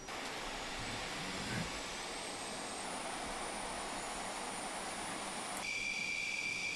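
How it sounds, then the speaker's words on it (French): Rafale fighter jets departing from Saint-Dizier air base, heard as a distant, steady jet roar with a rising high whine that shifts in pitch toward the end. "Donc nous sommes à Saint-Dizier, où vous assistez au départ de Rafale"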